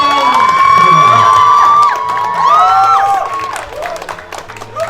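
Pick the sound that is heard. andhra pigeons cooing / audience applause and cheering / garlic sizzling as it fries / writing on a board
audience applause and cheering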